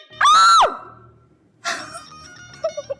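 A woman lets out a loud, piercing scream with a rising then falling pitch lasting about half a second, followed by quieter clattering and a few short higher-pitched sounds, up close in an indoor comedy scene.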